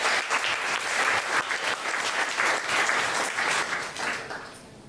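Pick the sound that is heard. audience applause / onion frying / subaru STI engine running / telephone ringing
audience applause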